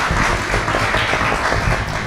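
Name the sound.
audience applause for the panelists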